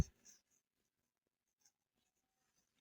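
Pen writing out a differential equation solution on paper, a few faint, brief scratches with long quiet gaps between them.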